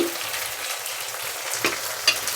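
Spiced taro root curry sizzles and fries in a pan while being stirred, a close hissing crackle with a couple of scraping clinks of the spoon.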